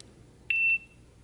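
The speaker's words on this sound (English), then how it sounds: "you can hear the beeping" One short electronic beep, clear and high-pitched, from a prototype phone-finding app using an iBeacon, against quiet background indoors.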